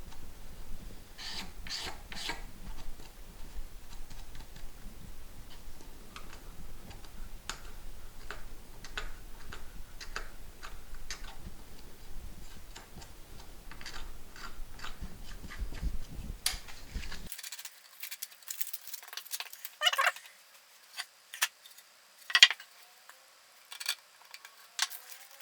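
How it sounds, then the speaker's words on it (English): A utility knife blade scraping the finish off a Thinline Telecaster guitar body, a steady run of short raspy strokes, close and continuous, with sharper, more isolated scrapes toward the end. "I'm literally just going to give it a quick scrape off with a utility knife blade"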